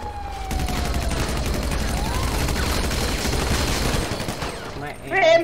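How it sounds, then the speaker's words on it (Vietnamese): Gunfire during a chaotic street confrontation, a sustained dense crackle of shots with shouting voices mixed in, ending in a sharp louder burst near the close. "tụi nó cầm súng bắn nè"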